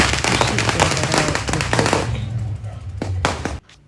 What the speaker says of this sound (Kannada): ದೇವಸ್ಥಾನ ಹತ್ರ ಬಂದಾಗ ಅಲ್ಲಿ ಎಲ್ಲ ಪಟಾಕಿ ಎಲ್ಲ ಹಚ್ಚಿ ಜೋರಾಗಿ ಸೆಲೆಬ್ರೇಷನ್ ಮಾಡ್ತಾಯಿದ್ರು